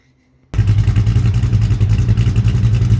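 A 455 V8 in a 1970 Buick Skylark fires up abruptly and settles into a loud, throbbing idle with a deep, lumpy exhaust rumble through FX mufflers and 3-inch exhaust, close by.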